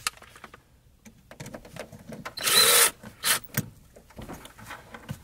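A power drill whirs briefly as screws go into a dashboard bracket inside a vehicle, one loud burst and a shorter one between soft handling and rubbing noises, close up.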